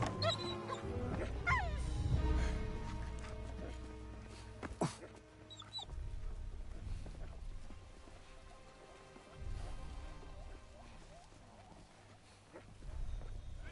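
A dog attacks in the video game Indiana Jones and the Great Circle, with growls and barks amid scuffling combat sounds and a music bed, loud at first then fading into quieter background game audio.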